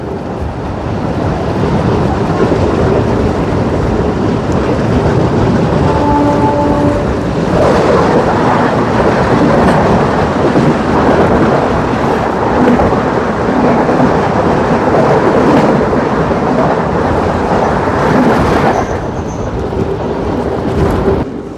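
The Amritsar–New Dilli–Bilaspur Chhattisgarh Express passing near Darekasa Ghat, a loud, continuous rushing roar with heavy rumble lasting throughout, and a brief high tone near the end.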